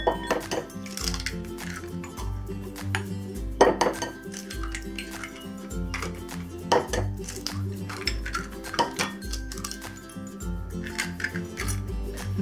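Eggs whisked in a bowl for spicy fried eggs with black fungus and yellow chives, a run of quick metallic clinks and scrapes against the bowl, steady and close, with no talking.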